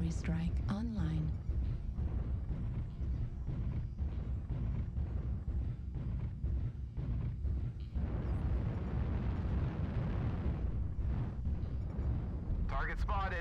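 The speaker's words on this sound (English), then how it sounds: "Artillery strike online." Artillery strike explosions in a video game: a steady run of heavy booms and rumbling blasts over nearly fourteen seconds, loud and dense, with brief game voices near the start and end.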